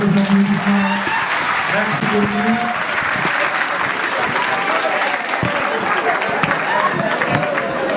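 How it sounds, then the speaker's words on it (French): Audience applause at a graduation ceremony, with a dense, loud, sustained wash of clapping from a large crowd lasting the whole stretch, and a voice speaking over it at the start. "Encore mettons les applaudissements"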